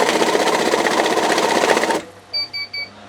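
An ECB-tested bill counting machine with counterfeit note detection whirs and riffles notes rapidly for about two seconds, stops abruptly, then gives three short electronic beeps.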